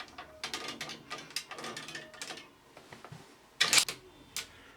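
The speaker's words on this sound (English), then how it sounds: "You have to press both buttons in and then lift up the lever, and then you can move the gate in either direction." Lindam Easy Fit safety gate being unlatched, with a run of small plastic and metal clicks and ratcheting as the buttons are pressed and the lever lifted, then a louder clack near the end as the gate moves, close up.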